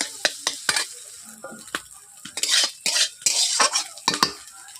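Eggs being scrambled in a wok with a metal spatula for street-style egg chowmein, with sharp scraping and clanking strokes in an irregular rhythm over a faint sizzle of frying.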